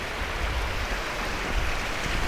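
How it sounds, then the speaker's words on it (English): Waterfalls splash at Gold Strike Canyon hot springs, a steady, dense broadband rush of falling water close by with no voices. "Waterfalls all around you. Sounds awesome."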